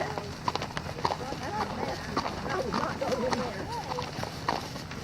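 Hooves clip-clop steadily as several horses walk along a trail and cross a dam, heard under people chatting nearby.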